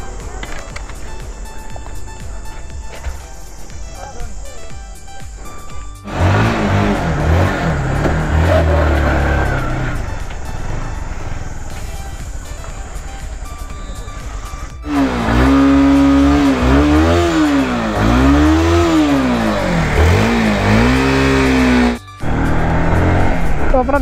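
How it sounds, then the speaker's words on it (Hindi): A motorcycle engine warming up near Mussoorie, Uttarakhand, idling with a loud close rumble, then revving in repeated rising and falling surges before briefly cutting out near the end. "तो पहले बाइक को थोड़ा गर्म कर लेते हैं, बहुत ज़्यादा ज़रूरी है बाइक को गर्म करना"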